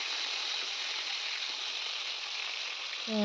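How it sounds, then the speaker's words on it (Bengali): Pieces of bhola fish fry in hot oil in a steady, close, even sizzle that runs without pause, with a brief bump of noise right at the end. "আর এখানে আমি একটু লাল করে ভেজে তুলে রাখলাম আর এইভাবে করে প্রত্যেকটা মাছগুলিকে আমি এইভাবে ভেজে রাখবো"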